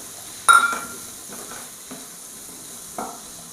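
Bilimbi (irumbanpuli) tipped into a hot pan of softened tomato and onion for a curry: a sharp sizzling burst, then a few soft stirring scrapes and one more brief sizzle, close and alone.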